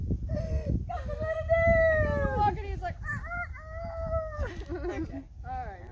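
A person mimics a rooster crowing with several long, rising-and-falling vocal calls over a low background rumble, close and fairly loud.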